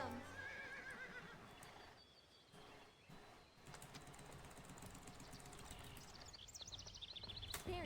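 A horse whinnies in the Barbie Horse Adventures: Riding Camp video game, a clear neigh at the start over game music, then hoof clip-clops and light clicking continue beneath the music throughout.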